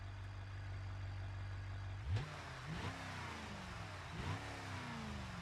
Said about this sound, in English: sounds like it's got a meaty engine